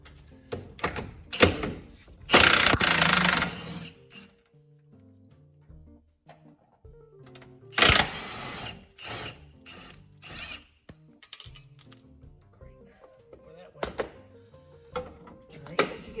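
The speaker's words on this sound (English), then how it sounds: "you're going to take your 27 mil socket and an impact gun of some kind. And you're going to undo these bolts here." A pneumatic impact gun with a 27 mm socket undoes the bolts on a classic VW swing axle, giving several short bursts of rattling hammering separated by pauses, clanks and tool handling in a workshop.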